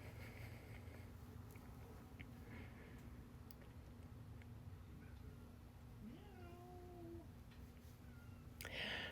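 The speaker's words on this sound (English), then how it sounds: "Oh goodness, the cat's meowing." A house cat meows somewhere in a kitchen during baking, a single drawn-out rising then level cry heard clearly over a steady background hum, with no talk alongside.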